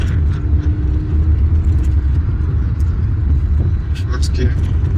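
A car engine under load rumbles steadily as the car accelerates and shifts up through the gears during a transmission check, with a loud, continuous low drone close by.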